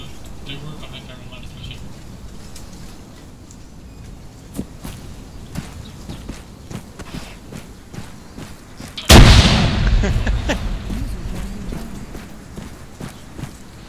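Machine gun fire in the game Iron Front, scattered sharp distant shots and short bursts, then a loud close blast followed by a roaring tail, with voices talking throughout.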